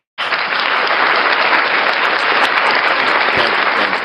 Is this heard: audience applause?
yes